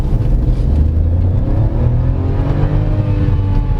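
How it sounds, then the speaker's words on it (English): A 2022 Chevrolet Tracker's turbocharged 3-cylinder pulls hard at full throttle in manual mode, a loud, steady engine drone with rising harmonics heard from inside the cabin, with no one speaking. "it sounds good for a turbocharged 3-cylinder engine"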